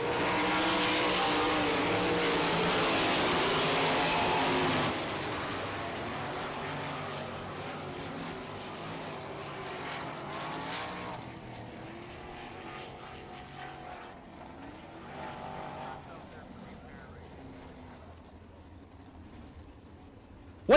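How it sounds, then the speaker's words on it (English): Sprint cars race on a dirt track in Winnipeg, their engines roaring loud and close at first, then easing into a fainter, droning buzz as the pack moves off into the distance. "Are you ready for some sprint car racing?"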